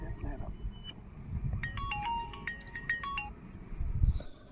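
A mobile phone rings with a short, bright electronic ringtone melody of quick stepped notes lasting under two seconds, heard at moderate level over low outdoor rumble and movement.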